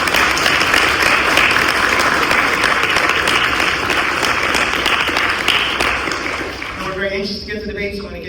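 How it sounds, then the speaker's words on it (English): An audience at a debate event applauds its judges with dense, sustained clapping that fills the room, then fades as a voice begins speaking near the end. "Let's give them a round of applause for being here today."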